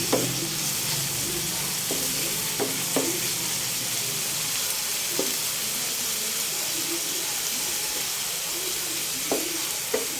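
Bamboo shoots are stir-fried with chicken in a pan, a steady loud sizzle and steam hiss with scattered clicks and scrapes of a utensil stirring, up close and with no talk.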